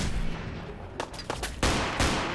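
Rapid bursts of gunfire in the Fallout 4 video game, several sharp loud reports spaced across a couple of seconds, with no talking over them.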